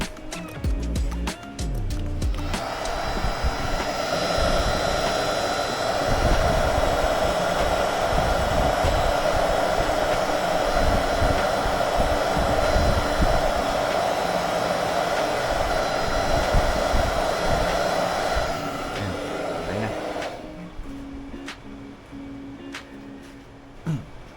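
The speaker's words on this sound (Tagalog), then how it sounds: "kailangan din painitin muna sa" A hair-dryer-style blower runs steadily for about eighteen seconds, heating the adhesive pad for a FreedConn FX helmet intercom, a loud continuous whirring roar that starts and stops with handling clatter.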